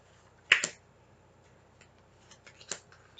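A deck of tarot cards being cut by hand, heard as a crisp double snap of card edges followed later by a few softer flicks and taps, close and otherwise quiet.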